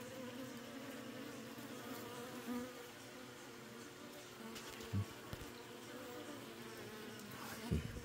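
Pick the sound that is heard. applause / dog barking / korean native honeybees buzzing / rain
korean native honeybees buzzing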